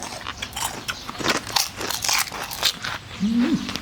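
Crunchy bites into spicy papaya salad with fresh shrimp, eaten with rolled rice noodles: several close, crisp crunches in a row, followed by a short low murmur near the end.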